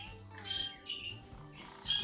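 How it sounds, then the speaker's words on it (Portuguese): A classical-song canary at a 2022 Brazilian championship judging sings faint, short bright chirps and trills in a few brief bursts against quiet room background. "Esse pássaro tá saindo um ponto"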